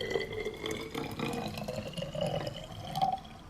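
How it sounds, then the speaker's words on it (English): Homemade hazelnut milk poured into a bottle, a steady gurgling liquid stream with small drips, close and moderately loud, alone without talk. "I'm going to pour the milk into the bottle."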